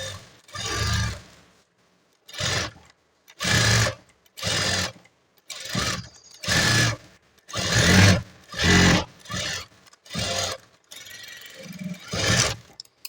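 Sewing machine stitching a double row of seams on a blouse, running in repeated short bursts of whirring with brief pauses between them, close and loud with no talking.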